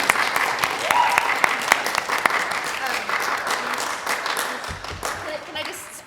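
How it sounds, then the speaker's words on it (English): An audience at a summer chamber music camp concert gives brief, lively applause with distinct individual claps, fading toward the end. "Can we just start by giving them a quick round of applause?"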